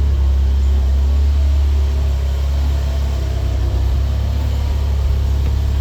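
A Mitsubishi GTO engine idles steadily with a low, smooth rumble, constant and close, with no revving or voices.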